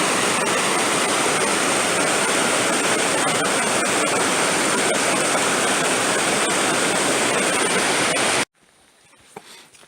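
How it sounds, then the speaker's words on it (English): Waterfall in the Hoh River Valley, a steady loud roar of falling water filling the scene for about eight seconds before cutting off to quiet outdoor ambience. "there's a separate waterfall behind me from the one I showed you before"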